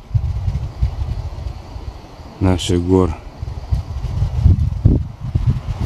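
Strong gusty wind buffets the microphone on a rocky mountain ridge, a steady low roar with surging gusts throughout, while someone speaks briefly in the middle.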